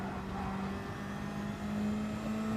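Race cars in a racing video game, including a Toyota Supra, drone past with a steady high engine whine that rises slightly in pitch, a continuous synthetic motor tone with no voices.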